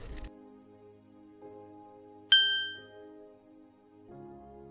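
A school bell gives one bright, ringing strike that decays slowly, heard over soft, sustained background music tones.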